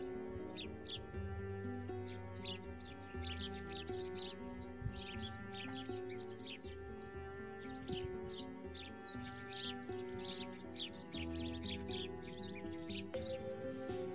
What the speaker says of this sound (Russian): Бимочка, смотри, птички твои любимые